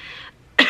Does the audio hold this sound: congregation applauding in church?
no